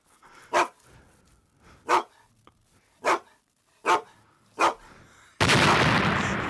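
A dog in a movie gives five single loud barks at roughly one-second intervals, each sharp and separate against quiet, followed by a sudden burst of broadband noise.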